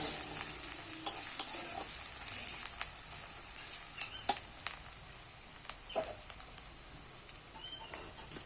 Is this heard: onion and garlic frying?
yes